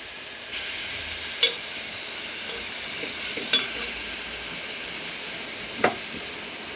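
Four garlic cloves sizzling in a shallow layer of leftover peanut oil, a soft steady hiss broken by a few sharp pops and crackles spaced a couple of seconds apart.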